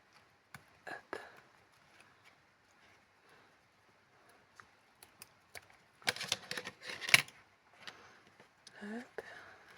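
Paper being cut for a small handmade notebook gives a few sparse, quiet snips and crisp cutting strokes, close and soft, with brief rustles between them.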